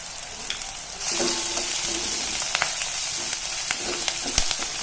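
Onions frying in oil with cinnamon sticks and cloves, a close sizzle that jumps louder after the first second, with scattered spoon scrapes and taps while stirring.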